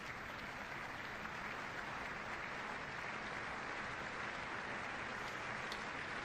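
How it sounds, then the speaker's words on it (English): Steady, dense applause from a large audience at the State of the Union address, a continuous wash of many hands clapping at a distance, heard as if from a broadcast, with no clear voices over it. "clap for the fact that we got everybody back"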